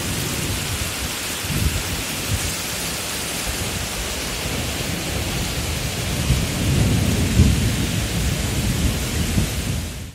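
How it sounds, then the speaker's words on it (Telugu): Heavy rain pours steadily in Telangana while low thunder rumbles underneath, swelling louder toward the latter half. "ఉరుములు మెరుపులతో కూడిన భారీ వర్షం కురిసింది"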